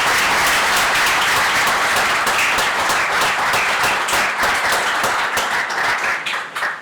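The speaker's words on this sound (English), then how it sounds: "All of them deserve a great round of applause of putting all this program together." A large audience at a university master's program launch event claps steadily in a loud, close, continuous round of applause that thins slightly toward the end.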